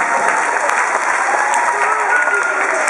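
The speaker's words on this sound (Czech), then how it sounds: "Veliký potlesk pro Zuzku." Loud, close applause from an audience at a children's singing competition, a dense continuous clatter of hands, with a few faint voices underneath.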